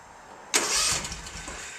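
A zero turn lawn mower engine with its fuel line shut off, running only on starting fluid, cranks and catches abruptly, then sputters and runs unevenly for a moment, close by.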